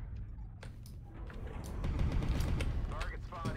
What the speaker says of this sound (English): Yeah, I'm taking fire. Taking fire on him.